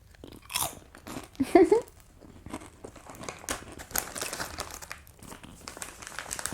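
Crunchy potato crisps being eaten up close, with crinkling bag rustles and sharp crunching bites scattered through the clip alongside soft whispered speech.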